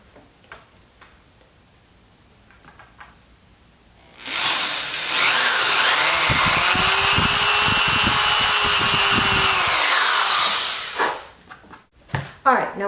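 A power drill bores through the leather of a vintage suitcase, a steady whining spin lasting several seconds with a rapid rattling grind partway through, preceded and followed by quiet handling clicks.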